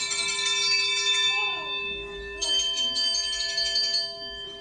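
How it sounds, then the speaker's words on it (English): Old mechanical telephone bells ring in metallic, sustained tones, a first ring fading out and then a second bright ring starting midway, close and clear with no talk. "These are telephone bells"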